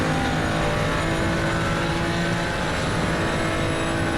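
A race car engine screams at high revs through Parabolica and down the pit straight at Monza in Assetto Corsa Competizione, a loud, steady, sustained whine with no talk over it.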